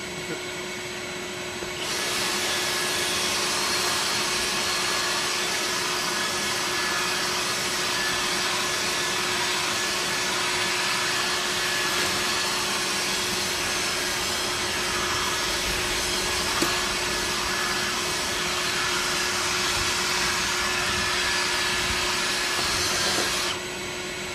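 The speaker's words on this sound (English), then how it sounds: "now let's go ahead and vacuum up all this trash we brought to the surface" A vacuum cleaner sucks loose trash out of car interior carpet, a steady loud whine that runs unbroken for over twenty seconds, with occasional faint rattles of debris going up the hose.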